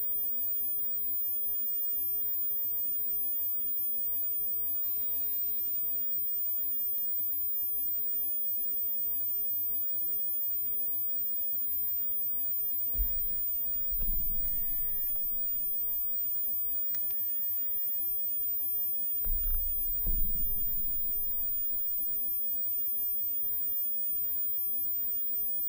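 A steady, pure 15 kHz test tone plays continuously from a Studer A80 tape machine during alignment, with a couple of low thumps partway through.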